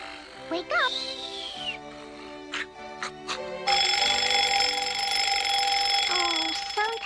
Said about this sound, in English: sometimes I wish I had an alarm clock that didn't oversleep